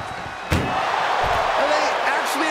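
A single loud slam of an ambulance door during a wrestling match, a sharp bang rising out of steady arena crowd noise, followed by a couple of softer thuds.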